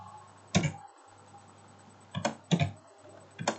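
Computer keyboard keys struck carefully during manual data entry: four separate clicky taps spaced irregularly over a few seconds, close and fairly loud against a faint steady hum.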